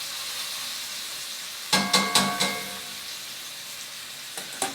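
Meat searing in a hot pan, a steady sizzle joined by a quick run of four loud clanks from a pan or utensil midway, then two softer knocks, close with no talk.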